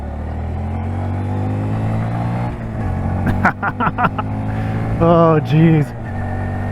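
A Honda Grom motorcycle engine at wide open throttle holds a steady drone under wind, with a person speaking briefly over it partway through.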